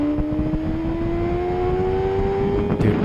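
A car cruises along a road with a steady, loud engine hum and a tone that rises gradually, a brief rustle near the end.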